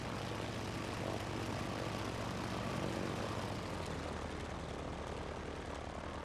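Propeller airplane engine in a video game, a steady loud drone with a broad rough roar that holds unchanged for several seconds, with no talking over it.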